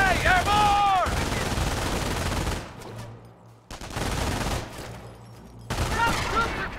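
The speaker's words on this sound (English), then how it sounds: "I'm taking fire!" Dense gunfire from the game Company of Heroes, with rapid machine-gun bursts and rattling rifle shots sustained at close range, a brief lull, then more volleys, with voices shouting over the battle.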